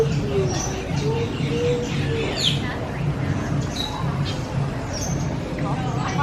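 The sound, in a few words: world's largest pigeon cooing at Animal Kingdom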